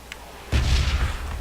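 A heavy artillery blast booms from the red zone bombardment in PUBG, one loud low explosion erupting suddenly after a quiet moment and rumbling as it decays.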